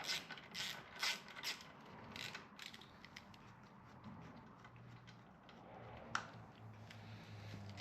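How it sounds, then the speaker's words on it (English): Metal ratcheting and gear-like clicks from loosening 6mm Allen bolts on the intake cover of an Indian Challenger motorcycle, a few louder bursts early then quieter steady mechanical ticking with one sharp click near the end. "to remove this, it's just 4 6mm Allen bolts"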